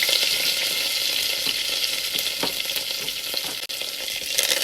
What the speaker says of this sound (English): I'm gonna add a little bit of cilantro and 2 cloves of garlic. Ooh, the oil is hot.